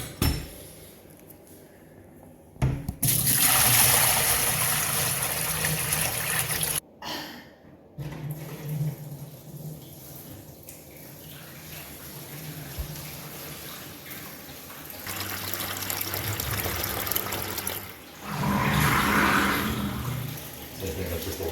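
Water rushes through PEX drain plumbing during a flow test in a home under construction, a steady hissing gush that swells and drops in bursts, with brief pauses and faint voices between.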